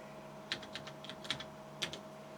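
Keys tapped on the computer keyboard of a Siemens PG-730 programmer: a handful of soft, separate clicks in an uneven rhythm, close and fairly quiet over a steady electrical hum.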